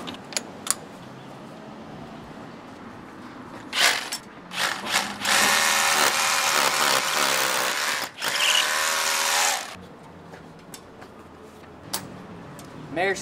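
A drill with step-up bits bores into loose brick to widen a hole, giving a few short bursts and then a sustained grinding whir of several seconds, up close, with quieter handling sounds around it.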